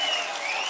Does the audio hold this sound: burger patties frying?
no